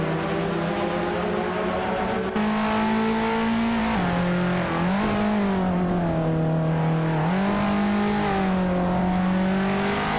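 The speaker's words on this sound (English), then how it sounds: "TV Panicchiaccio is driving a 1968 Porsche 912R." A 1968 Porsche 912R race car in a racing video game holds a loud, steady engine drone throughout, its pitch rising and dipping briefly with gear changes and throttle lifts before settling again.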